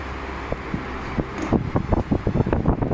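A National Panasonic electric fan with a replaced motor whirs steadily, then gives a rising run of rapid rattling clicks and thumps as it winds down and stops, close and fairly loud.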